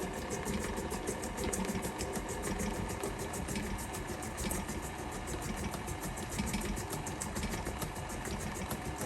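A stand mixer with a paddle attachment beats carrot cake batter, a steady mechanical motor hum with a fast repetitive whir running evenly throughout, close up and without talking.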